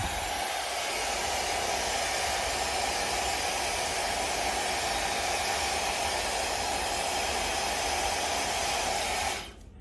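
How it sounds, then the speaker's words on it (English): A handheld blow dryer runs on bangs with a steady, loud, broadband whoosh that continues unbroken for nearly ten seconds before cutting off abruptly at the end. "I'll take my blow dryer,"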